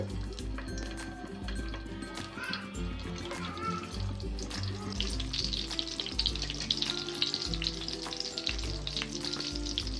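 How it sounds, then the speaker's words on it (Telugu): Cut boiled eggs drop into hot oil in a pan and crackle in a steady, busy sizzle that grows brighter and hissier after the first few seconds. A low, droning tone runs underneath. "ఇప్పుడు మనం ఈ గుడ్లు వేసేసుకుందాం, కట్ చేసిన గుడ్లు."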